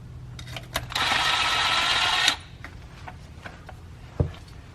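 A socket wrench works a 13 mm nut off the oil pan of a Chevy 350 small-block in a C4 Corvette: one steady mechanical whirring burst of about a second, then a few faint clicks and a single sharp knock.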